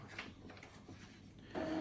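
An Epson L3251 inkjet printer printing a page gives soft mechanical shuffling and clicks, then a louder whirring motor with a steady tonal hum near the end, close and without speech.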